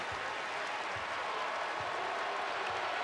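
A basketball arena crowd at an NC State Wolfpack home game against Notre Dame roars after a made two-point shot. The cheering and applause stay loud and steady throughout, with no speech.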